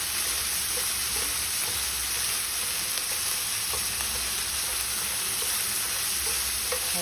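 Small shell-on shrimp stir-fry in a pan, giving a continuous dense sizzle with scraping stirring sounds throughout, steady and fairly close with no talking.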